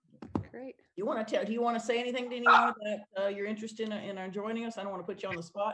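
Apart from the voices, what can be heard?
dog barking during a video meeting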